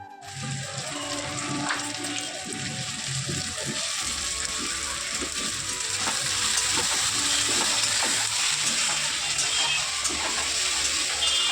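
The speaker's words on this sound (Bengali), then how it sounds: "টমেটো পেঁয়াজ কুচি আদা রসুন সব কিছু কুচি কুচি করে দিয়েছি দিয়ে একটু ফ্রাই করে নিয়ে মানে মশলাটা কষিয়ে নিয়ে" Chopped tomato, onion, ginger and garlic masala frying in a pan, a steady wet sizzle with stirring and clinks running throughout, close and moderately loud.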